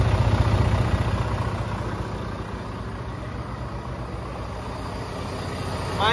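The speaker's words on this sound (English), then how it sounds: "make sure your tractor is running" A tractor-trailer truck engine idles steadily with a low, rumbling throb, close by and continuous, with a faint high whine above it.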